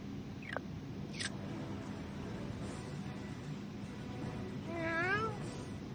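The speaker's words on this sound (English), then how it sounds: "What's with the cats?" Cats meow in the video game South Park: The Fractured But Whole, with two quick meows near the start and a longer wavering meow toward the end, over a steady background of game ambience.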